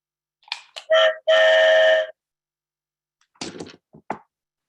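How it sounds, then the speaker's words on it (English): A recorded train whistle from a button switch plays, two quick toots then a longer held blast, followed after a pause by a few clicks and thumps. "Here is a button switch with a train whistle sound."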